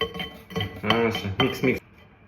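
A spoon clinks and scrapes against a bowl while pancake batter is mixed at home, with several distinct bursts of metallic clatter in close succession, then quiet; a voice may be faintly mixed in.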